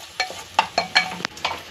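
Onion, tomato and ginger-garlic paste tempering being sautéed in a pan for daliya khichdi, giving a series of about seven distinct stirring scrapes with a soft sizzle underneath, near and fairly quiet.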